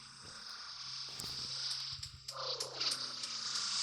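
A soft, rumbling cartoonish purr of a cartoon cat creature in the game Chicken Gun plays steadily over the game's ambient hum, with small clicks and a brighter synthetic swell near the end.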